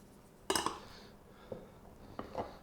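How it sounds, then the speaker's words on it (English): A utensil scrapes and knocks against a bowl while salt rising bread dough is stirred, a few short clattering bursts separated by quiet gaps, fairly soft and close. "Stir it around."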